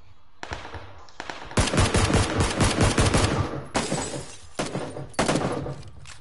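Bursts of automatic gunfire crack out in PUBG, a duos match, with rapid volleys starting and stopping over several seconds, loud and close, some shots rattling off in long strings.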